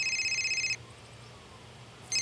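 A home telephone rings with a bright, electronic trill that sounds, stops for over a second, then starts again, clear and fairly close in a quiet room.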